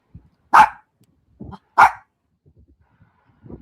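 A dog barks loudly twice, sharp and close, with quieter grunts and softer sounds between the barks and nothing else in the background.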